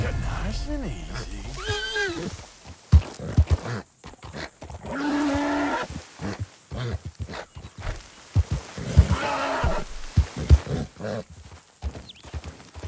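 Horse neighing and snorting while being broken in Red Dead Redemption 2, with a whinny near the start, scattered hoof thuds and someone talking in between.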